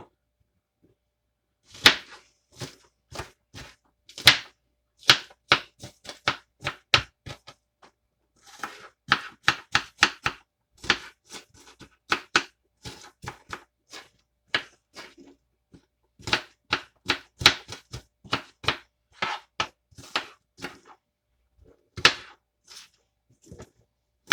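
A knife chops through onions on a cutting board in quick bursts of sharp, close cuts, pausing briefly between runs, with no talking.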